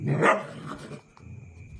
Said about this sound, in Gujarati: કૂતરા ગામના કૂતરા ભાઈ લોકલ આઈના જ છે